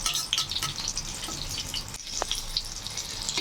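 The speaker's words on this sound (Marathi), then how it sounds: "ॲट अ टाईम 3 मिरच्या तळून घेत आहे." Potato-stuffed green chillies for mirchi bhaji fry in hot oil in a kadhai over low to medium flame, a close, steady bubbling sizzle with faint clinks and no talk.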